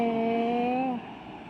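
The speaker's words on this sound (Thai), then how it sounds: "ได้ยินเสียงเบรกรถไหมทุกคน" A car's brakes let out a single loud, sustained squeal lasting about a second before fading into low road noise, with no voices.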